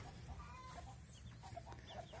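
Chickens clucking in a backyard coop area with a woodland nearby on a rainy day, several soft, faint clucks and short calls scattered across a low background hum.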